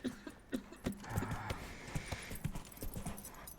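Hoofbeats of a horse ridden in the video game Witcher 3 give a quick, uneven clip-clop of soft footfalls, fairly faint, with a brief low murmur partway through.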